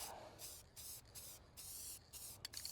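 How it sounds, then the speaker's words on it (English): Clear coat sprayed onto a budget OBS Chevy 454 tow truck during a repair: close, hissing spray bursts in short, repeated passes with brief gaps between them. "Try to minimize the overspray."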